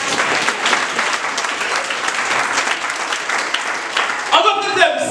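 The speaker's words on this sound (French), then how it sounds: "Applaudissez le Seigneur." A church congregation applauds the Lord with loud, sustained clapping that carries on steadily, then a voice begins speaking over the tail end.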